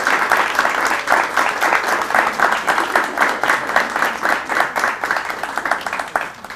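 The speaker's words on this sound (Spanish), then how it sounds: "Un fuerte aplauso, por favor, para Sergio Daliani." Sustained audience applause after a conference talk on the shift from FM radio to the internet, dense steady clapping from a large room that holds at even loudness and then tapers slightly at the end.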